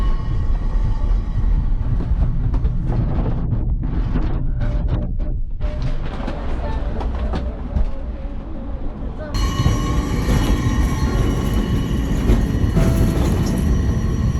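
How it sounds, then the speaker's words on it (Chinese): A small train on the Angels Flight funicular railway in Los Angeles rumbles steadily along with continuous mechanical clatter, a brighter hiss joining partway through; a voice may be faintly present. "小火车"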